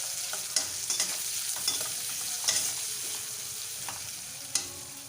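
Chopped onions frying in oil in a pan for an egg curry, a steady soft sizzle with occasional stirring scrapes and clicks, close and moderately quiet, with no talking.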